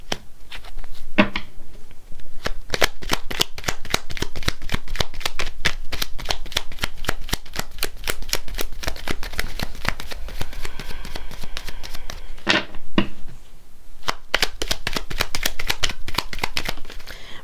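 A deck of oracle cards is shuffled by hand, a dense run of rapid, crisp riffling clicks close to the listener, with brief pauses between bursts and no talking.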